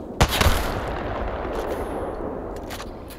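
Rapid sustained fire from a legendary gun in Apex Legends, opening with sharp shots then a continuous rattling stream of rounds that runs steadily until it thins out near the end.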